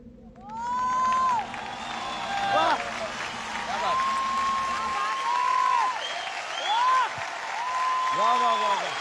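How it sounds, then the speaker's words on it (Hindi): Audience applause and cheering fill the room in a broad, steady wash that runs the whole time, with bright sung or whooping tones rising over it. "मम्मी के लिए हाथ टूटने तक तालियां।"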